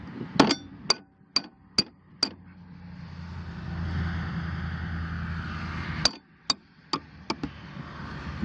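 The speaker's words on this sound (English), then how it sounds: "Then I'm just going to use a soft face hammer just to give this a little nudge." A soft face hammer taps a part on an EGO LM2101 21-inch 56-volt lawn mower, five sharp evenly spaced knocks, a pause with low background rumble, then four more taps, close and distinct.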